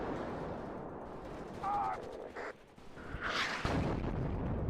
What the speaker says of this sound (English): They're just going to start putting down rounds on him now.